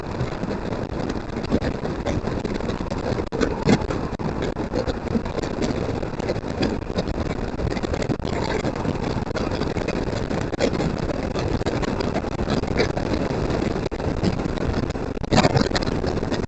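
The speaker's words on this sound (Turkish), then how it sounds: "Ama çok fazla rüzgar var bu arada." Loud, constant wind roar buffets the microphone nonstop, with a Honda Forza scooter engine droning underneath as if moving at speed.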